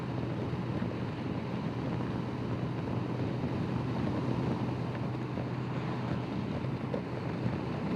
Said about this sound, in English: The wind's batting me helmet to pieces again today, like, so no doubt that'll be all over the video.